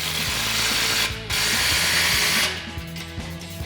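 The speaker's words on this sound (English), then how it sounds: "take our clamp and slide it into position and tighten it down with our 15 millimeter socket" An exhaust clamp on a Ram 1500 MBRP Armor Lite single exhaust is tightened with a 15 mm socket ratchet. Rapid repeated clicks sit under a loud steady hiss, close up, with a brief gap partway through.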